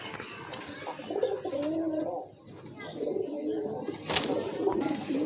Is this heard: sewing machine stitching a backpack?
no